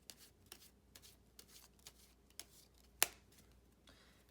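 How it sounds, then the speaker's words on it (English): A deck of playing cards shuffled during a card trick, heard as a series of faint, crisp riffles and taps, one sharper snap near the end, quiet and close with no talking. "we will even shuffle them up a little bit"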